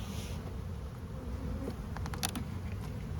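Honeybees in an opened hive with an upper super make a close, continuous low buzzing drone, with a few brief light taps and clicks near the end, and no talk.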